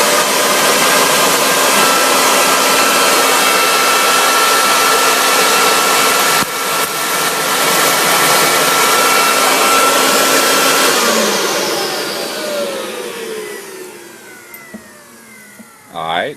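Electric blower fanning charcoal in a hibachi grill; a loud, steady whooshing roar runs for most of the stretch, then winds down and fades near the end, close by.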